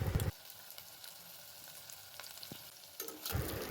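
Onions and garlic frying in oil inside a pressure cooker, a steady soft sizzle with brief louder bursts of stirring at the start and end.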